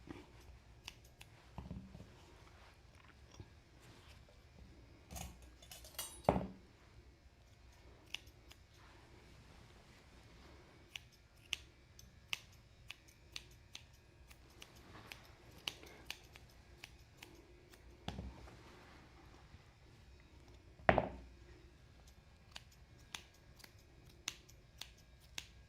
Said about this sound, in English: Scissors are sharp.